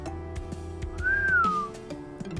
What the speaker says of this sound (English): Oh, I whistled! Oh, I don't really whistle very well.